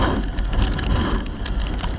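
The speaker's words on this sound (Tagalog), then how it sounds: "Oh, lakas ng hangin." Loud, steady roar of wind buffeting the microphone, with a crackling, rain-like hiss throughout and no voices.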